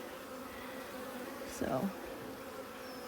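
Honey bees buzz around hive frames during a nuc installation, a low continuous hum with one bee droning louder as it passes close by; a voice speaks a single brief word.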